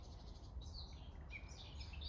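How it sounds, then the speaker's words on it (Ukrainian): Small birds chirp and sing faintly in the distance on a quiet morning by a river, a few scattered high calls over a steady low background hush. "Такі чудові співи. Зранку пташок."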